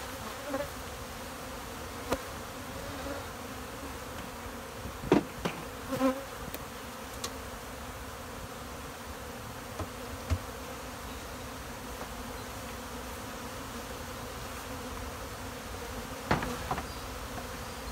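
A swarm of honeybees robbing honey late in the season, a steady insect buzz filling the air with a few louder passes close by.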